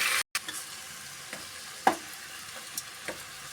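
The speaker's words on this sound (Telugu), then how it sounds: "ఇలా బాగా కలబెట్టుకోండి అంతా ఉప్పు కారము నూనె అంతా మిక్స్ అయ్యేలా చూడండి" Salt, chili powder, spices and oil being stirred together in a pan for radish sambar, with a few soft scraping strokes of a spoon at irregular intervals over a faint, steady sizzle, close up and without talking.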